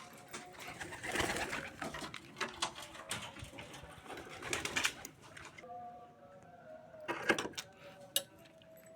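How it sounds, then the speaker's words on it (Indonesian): Pigeons in a cage give soft, repeated cooing calls in irregular bursts, fairly close, against a quiet background with light rustling. "Waktunya BUKIN kandang burung merpati karena sudah siang."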